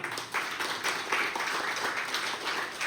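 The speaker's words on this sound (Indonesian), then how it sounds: "Tepuk tangan." An audience at a talk on defending the nation applauds a question, giving steady, dense clapping with a few louder swells across the whole short stretch.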